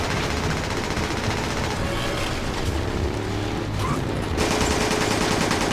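Gunfire in the video game Resident Evil 5, loud dense bursts of automatic shots rattling continuously over a busy game soundscape.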